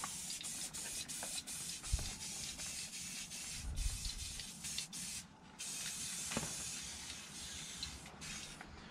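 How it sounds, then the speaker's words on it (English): Spray paint hisses in short and longer bursts over a chainsaw-carved wooden tree, close and fairly quiet with brief pauses between sprays. "you can always spray a little bit over the top"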